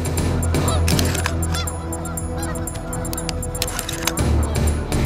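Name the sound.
snow goose calls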